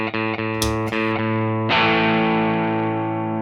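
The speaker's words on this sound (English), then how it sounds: "Okay, so that is our kind of basic overdrive sound." An electric guitar through a MayFly Creamsicle Overdrive pedal plays a few quick picked notes, then a big distorted chord rings out and slowly sustains, crunchy and close with no talking.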